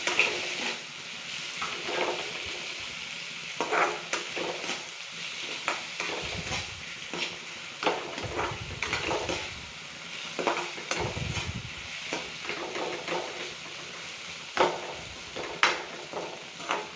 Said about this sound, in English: Saute it for almost 5 minutes so that the tomato is cooked well